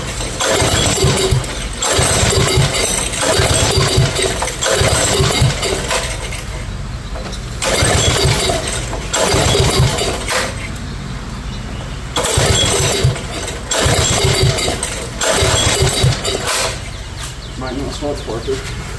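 Old go-kart engine, long unused and likely with a carburetor issue, being pull-started: repeated bursts of loud sputtering engine noise separated by short pauses, with people talking nearby.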